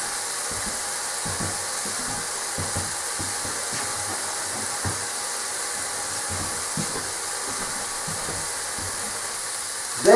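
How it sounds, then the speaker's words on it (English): Bacon and onions frying in a pan, a steady close sizzle and hiss with scattered small pops and crackles, continuous and fairly even throughout with no talking. "Once the bacon has begun to brown, you can throw in the onions."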